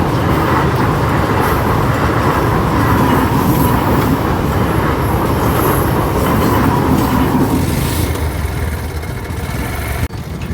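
A passing train heard from a station platform at Nawabganj: a steady, loud rumble of rolling wagons and wheels on rail, continuous throughout, easing slightly toward the end.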